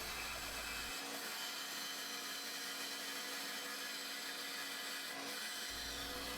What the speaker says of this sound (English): And then it was over to the bandsaw to cut each one out.